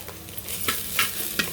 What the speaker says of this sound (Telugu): ఇప్పుడు ఉల్లిపాయలు వేగేవండి